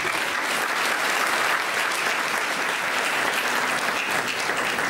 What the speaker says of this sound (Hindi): इस बच्ची के लिए ताली बजा लीजिए